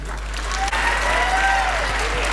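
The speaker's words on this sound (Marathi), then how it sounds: "टाळ्या वाजवा म्हटलं ना तर मनातून वाजवायला पाहिजे" Audience at an organ donation awareness talk on a technical campus claps steadily, loud and close. A faint tonal hum sits under the sound, and a brief dip interrupts the clapping near the start.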